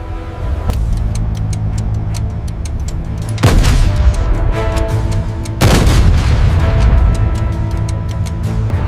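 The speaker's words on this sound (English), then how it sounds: "British Challenger tanks engage the enemy" British Challenger tanks firing in Gulf War battle, two heavy booms a couple of seconds apart cutting through a dense rumble of armour and scattered crackling fire, with a further sharp report at the start.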